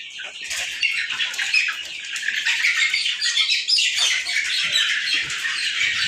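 A flock of small birds, sparrows, chirps and squawks continuously at close range, with fluttering wingbeats mixed into the busy, steady chatter.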